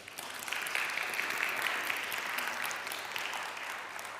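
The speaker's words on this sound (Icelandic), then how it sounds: "bara gefa gott klapp." Applause fills a church as a crowd claps steadily for several seconds at moderate volume, rising quickly and then slowly thinning out.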